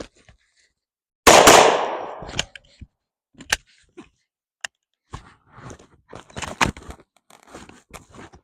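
A Tommybuilt T7 gun firing, opening with one loud blast that rings out, then a scatter of sharp clicks, snaps and short rattles at close range, with no talk.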